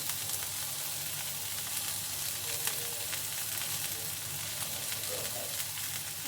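Brinjal slices fry on a tava over a low flame, giving a steady, even sizzle with no talking.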